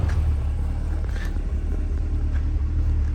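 A 2020 Corvette C8 3LT Z51 idling steadily nearby, a deep continuous low rumble with a smooth, even tone and no revving, heard without talking.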